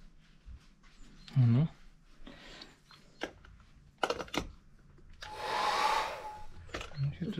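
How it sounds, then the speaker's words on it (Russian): A hair dryer, plugged in to test a socket, whirs up for about two seconds near the end amid quiet room sounds, clicks and brief talk. "А, точно, фен же можем."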